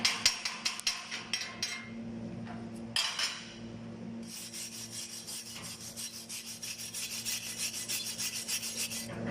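Slag is chipped and brushed off an arc-welded bead, producing a close run of sharp metallic taps followed by rapid, rhythmic scraping strokes that continue steadily to the end.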